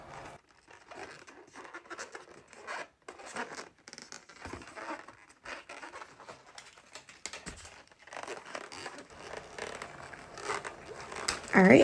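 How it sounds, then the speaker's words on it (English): Soft rubbery squeaks and squeezes from a latex balloon being shaped into a capybara head and ears, close and quiet, with irregular crinkly rubbing, a sharper squeak at the very end. "I give it a couple squeezes just to make sure that the head is even and how I want it, and form the ears"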